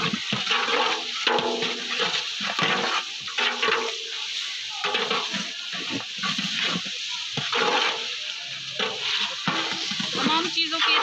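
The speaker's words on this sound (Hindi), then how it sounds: "तमाम चीज़ों की अच्छी तरीके से भुनाई करेंगे।" Chicken biryani masala with green chilies fries hard in a pot, a steady close sizzle broken by repeated scraping strokes of a spoon stirring the mixture, with no one talking.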